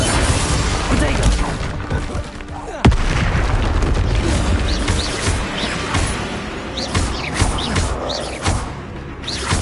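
Repeated explosive spell blasts from Hogwarts Legacy gameplay, booming and crackling in dense succession with one sharp heavy hit near the start, over a continuous roar of game action and effects.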